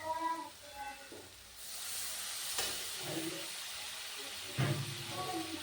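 Water splashed into a hot pan of fried spices and soybean chunks, bursting into a steady hiss that holds for several seconds before easing, close and moderately loud, with faint kitchen clatter and bits of tonal background sound around it.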